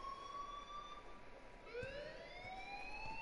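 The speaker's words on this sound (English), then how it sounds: "please turn off that alarm" Wailing alarm in the video game Life is Strange, a rising and falling siren tone that resets and sweeps upward again partway through, heard faintly and steadily with no talk over it.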